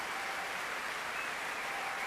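Sustained, even applause from a concert audience for a 160-member youth orchestra at the BBC Proms, a distant wash of clapping heard alone without any voices.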